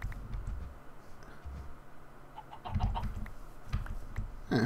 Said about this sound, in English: Do these chickens just spawn out here?